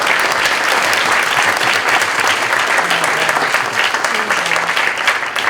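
An audience at a spelling bee championship applauds a young participant, dense and loud clapping that stays steady throughout, with faint voices beneath.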